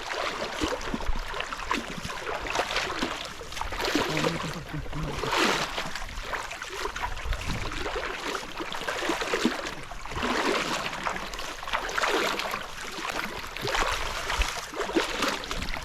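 Steady broadband water noise with sloshing and lapping from a small fishing boat moving through water; faint voices now and then.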